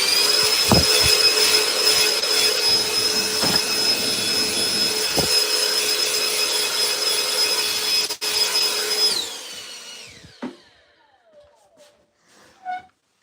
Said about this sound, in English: that little blower sure does come in handy, man